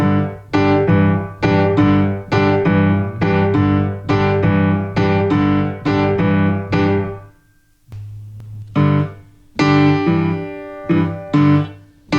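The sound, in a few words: boogie-woogie piano with all the syncopations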